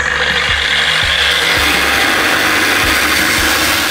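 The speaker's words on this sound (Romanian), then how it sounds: "Uite cum se taie parbrizul cu flexul." An angle grinder cuts through the windshield glass of a Dacia Duster, giving a steady loud grinding hiss with a rhythmic low thump about every half second, close and without talk.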